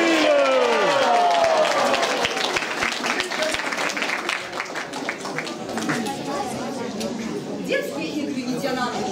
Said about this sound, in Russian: Давайте благодарим актеров своими аплодисментами.